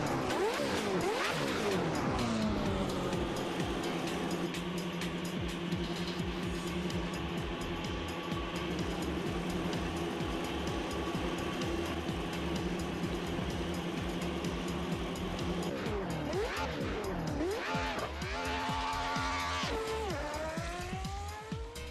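A BMW race car in the Assetto Corsa racing game drives continuously with a loud engine drone throughout, its pitch rising and falling through gear changes. Sharper revving sweeps come near the end.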